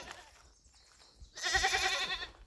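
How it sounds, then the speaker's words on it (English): Goats on an off-grid homestead bleat loudly and close by, a dense run of overlapping calls rising after a quieter stretch, with no talk over them. "Let's check the goats out."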